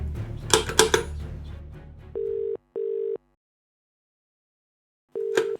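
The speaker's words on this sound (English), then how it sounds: "I'll call the operator again." A handset clatters and bumps, then a steady electronic telephone tone sounds in three separate bursts with short silences between them.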